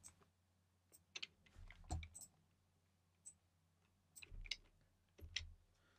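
Code being typed on a computer keyboard, heard as quiet, irregular clusters of key clicks and taps over a low steady hum, with short gaps between bursts and no talking.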